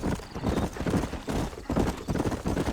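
Horse hooves clip-clop in steady, rapid rhythm as a horse is ridden in the Western video game Red Dead Redemption. The loud, close hoofbeats continue throughout without talking.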